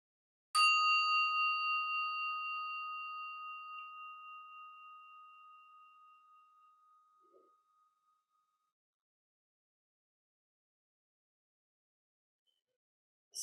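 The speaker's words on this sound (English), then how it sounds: "we may have noticed the sound of the bell has different overtones" A single bell struck once, ringing out with several clear overtones that slowly decay over about seven seconds into silence.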